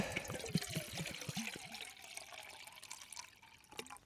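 Water poured into a camping stove pot outdoors during a wild camp, a brief gurgling pour with rising bubbly tones at the start, then fading into quieter ambient trickle.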